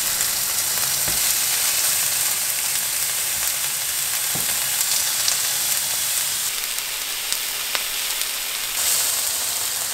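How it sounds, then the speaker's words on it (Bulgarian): Beef frying in a preheated pan, a steady dense sizzle and crackle holding for about ten seconds with a few sharper pops scattered through, close and fairly loud, with no talking. "Вече тигана е загрят, така че слагам месцето."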